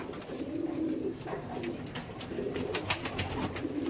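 Teddy pigeons coo steadily in a loft room, low burbling calls layered close by, with wing flutters and light knocks over a constant room hum.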